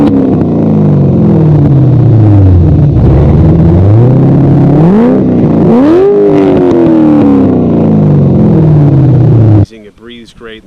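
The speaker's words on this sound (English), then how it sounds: "with that cam and the American Racing headers and the Billy Boat exhaust, it's basically straight pipes all the way back" A C6 Corvette V8 with an aggressive cam, American Racing headers and a straight-pipe Billy Boat exhaust revs loud and close, its deep lumpy idle climbing into rising and falling rev sweeps before a voice cuts in at the end.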